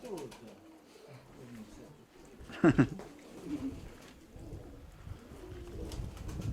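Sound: pigeons cooing

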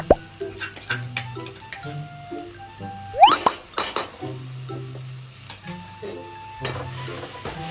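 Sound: stir-frying Korat curry paste with meat in a pan

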